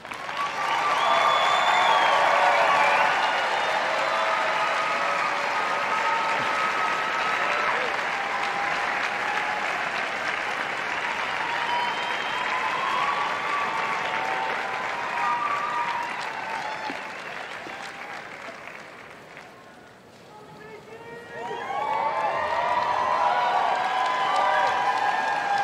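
Sellout crowd at the Westminster dog show gives sustained, loud applause and cheering that rolls on for about twenty seconds, dips briefly, then surges again.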